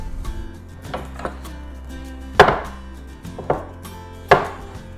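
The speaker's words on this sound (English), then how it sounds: "it's just a matter of just chopping up veggies" Knife chopping vegetables for a homemade tomato sauce on a board: a few scattered sharp cuts, then louder distinct chops at irregular intervals, close and clear with no talk.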